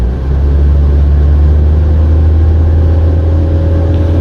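A car engine is held at a steady 2,000 to 3,000 RPM during a battery test with headlamps and air conditioning on, giving a loud, even, continuous hum and whir with no talking.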